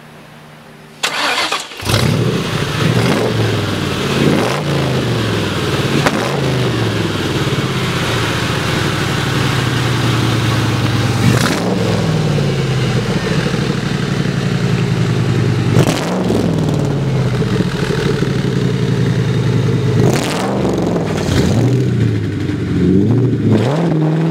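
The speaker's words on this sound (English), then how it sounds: "let's take this Cobra for a ride" Engine of a 1965 Shelby Cobra replica, a Factory 5 Classic, cranks and fires up after a short silence, then settles into a loud, close rumbling idle broken by several sharp throttle blips that rise and fall, with no talking.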